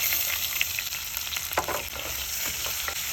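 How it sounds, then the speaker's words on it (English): Onions fry in rendered bacon fat, a steady close sizzle and hiss with faint stirring clicks underneath. "Go ahead and cook it in that fat that the bacon has been cooking in."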